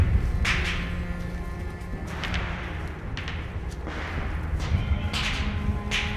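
Sharp gunshot cracks during military SERE training in freezing Maine woods, several spaced reports at moderate distance over a steady rumbling background, fairly faint overall.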